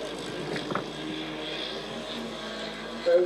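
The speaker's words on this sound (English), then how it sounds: "you can actually get the aerial view of the aircraft flying around" Radio-controlled model aircraft flying at the Popham model show, a steady, fairly distant propeller drone with a faint background murmur and brief bumps in level.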